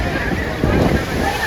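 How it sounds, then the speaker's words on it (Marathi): Sea waves and wind at Dwarka on the shore, a loud, close rush of surf with wind buffeting the microphone, constant through a brief moment. "मित्रांनो हा समुद्र आहे"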